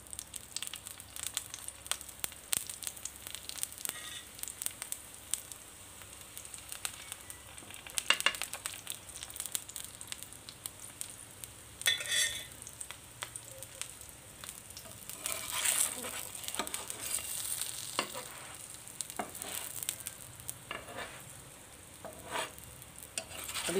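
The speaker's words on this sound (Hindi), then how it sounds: "कुछ इस पे घी भी डाल देंगे, इसके ऊपर भी घी कुछ लगा देते हैं और साइडों पे भी घी लगा देंगे" A keema paratha fries in ghee on a pan over low heat, a steady soft sizzle with occasional scraping and stirring noises, close and continuous, no talking.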